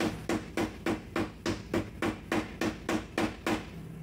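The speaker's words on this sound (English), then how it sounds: "Let's use the Klein hammer." A Klein hammer strikes exposed Romex electrical wire in a steady run of about fourteen sharp, loud blows, each spaced roughly a quarter second apart, close up and with no talking.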